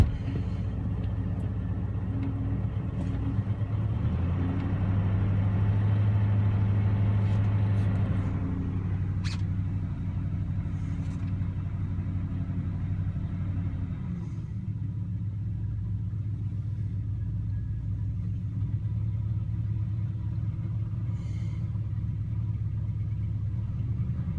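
A 1971 Oldsmobile Cutlass S idles after a hard cold start, its engine droning in a steady low rumble that runs a little higher early on before settling into a smoother idle throughout.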